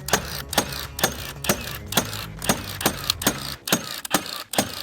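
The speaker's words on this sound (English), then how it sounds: "Now I'm just gonna throw some screws into all these" A screw gun drives screws into plywood patio roof sheets, producing a rapid, evenly spaced string of sharp mechanical clatters over a low motor whir, close and loud with no talking.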